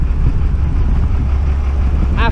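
An old vehicle's engine runs steadily at a raised fast idle with the throttle wedged open, a continuous low rumble close by with a brief faint tonal squeak near the end.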